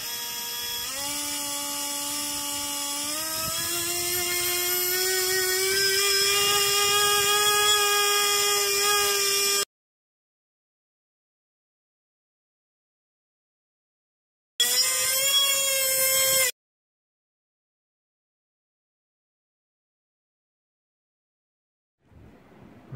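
A DYS 1104 7000kv drone motor spins an Eachine 3020 two-bladed propeller with a loud, high-pitched whine that steps up in pitch, cuts out, returns in a brief second burst, then starts again faintly at the end.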